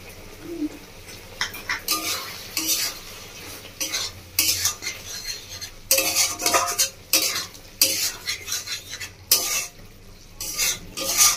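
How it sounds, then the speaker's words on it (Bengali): Dry-roasted cumin, coriander, dried chilli, black pepper and fennel being stirred into okra masala in a pan: repeated bursts of a utensil scraping and clinking against metal over a faint sizzle, with brief pauses between. "মশলা দিয়ে 1 মিনিট মতো নাড়াচাড়া করলে আমার ভেজে তরকারিটা রেডি হয়ে যাবে"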